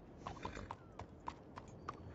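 Horse hooves clip-clopping in Red Dead Redemption 2, a steady run of fairly close, distinct hoof strikes with a faint whinny and little else.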